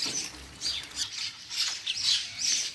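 Birds feeding on scattered grain on a rooftop give repeated harsh squawks, about six close, loud calls in quick succession over a quiet background.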